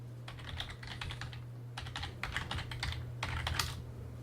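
Short bursts of typing on a computer keyboard as a login and password go in, with quick clusters of keystrokes separated by brief pauses and a low steady hum behind them.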